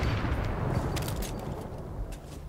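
Rapid gunfire aimed at a wall in Fortnite, a dense clatter of shots and low rumbling impacts running continuously at moderate loudness, with a few sharper cracks near the end.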